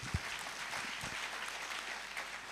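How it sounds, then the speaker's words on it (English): Applause from the audience at a university congregation ceremony, a steady wash of clapping that is fairly faint and distant, with a few closer claps early on. "I think we can give her another applause"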